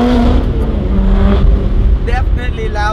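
Lotus Exige Sport 380 sports car accelerating hard, engine note rising loudly from inside the cabin, then a shifting whine with rapid pitch sweeps near the end; a voice is briefly present.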